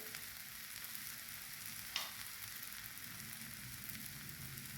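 Jowar uttapam frying on a hot pan, a steady close sizzle and crackle of batter cooking throughout, with one brief scrape or tap midway.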